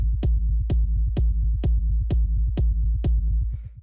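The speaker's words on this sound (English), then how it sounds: "the first sound we have here is the kick" A layered techno kick drum sample from an instrument rack thumps eight times in a steady 128 BPM pulse, each deep punchy hit carrying a sharp click on top, with a low rolling bass figure between hits, loud and alone.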